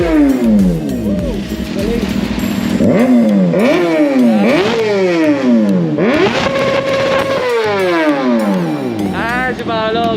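A Kawasaki ZX6R sport motorcycle engine revs hard and close, climbing in repeated sharp throttle blips and falling back between them, loud and continuous over about ten seconds.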